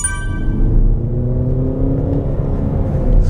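Engine note from a Peugeot 3008 with a 1.5-liter four-cylinder, a steady low hum with a faint whir on top, heard close and continuous with no talk.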